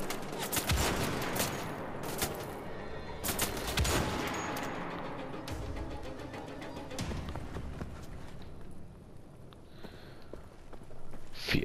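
Rapid bursts of gunfire in the video game Wolfenstein: The Old Blood, with sharp repeated shots and rattling volleys, loud and dense throughout, no talking.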